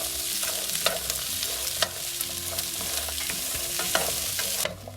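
Green peas and chopped vegetables sauté in coconut oil for a Kerala mixed vegetable kurma, a steady close sizzle broken by sharp scraping stir strokes, with no talking.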